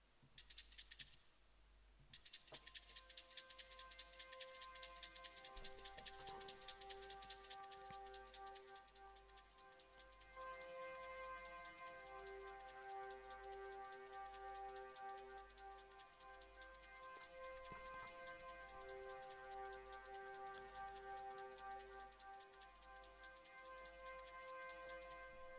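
A sustained pad sample and a shaker loop play together in a beat-chopping session: a steady high shaker pulse ticks over a held tonal pad, with a brief dropout near the start and no voices.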